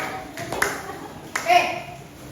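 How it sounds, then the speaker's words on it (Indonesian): Brief clapping in a classroom for a student group, a few scattered hand claps at moderate closeness, mixed with faint children's voices and a ringing tone. "Tepuk tangan buat kelompok 1"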